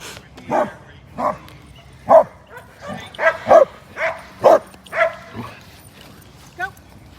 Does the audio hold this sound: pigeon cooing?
no